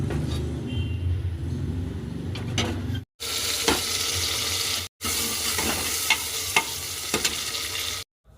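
Potatoes, tomatoes and green chillies being tempered in hot oil in a pressure cooker, a steady loud sizzle with stirring scrapes, briefly cut off twice.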